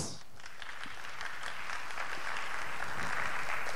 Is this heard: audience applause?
yes